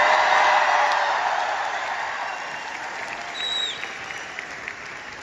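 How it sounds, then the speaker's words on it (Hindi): Sustained applause from an audience at a Delhi Success Day 2023 event, loud at first and slowly fading while the clapping continues throughout. "एक बार बहुत जोरदार तालियां मिस्टर कृष्णा अरोड़ा के लिए।"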